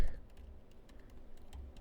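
Quick, light clicks of keys being typed on a MacBook Pro laptop keyboard, an irregular patter of close taps with a low background hum and no voices.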